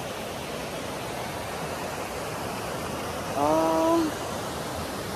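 Steady, broad rushing water from a river flowing beside Dalitiwan Resort in Majayjay, Laguna, continuous throughout, with a brief spoken exclamation over it.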